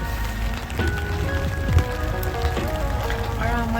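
Steady rain pours down during a thunderstorm at a campsite in Pangasinan, drumming on a parked car used for camping without a tent; a continuous close wash of rainfall with faint tonal sounds over it.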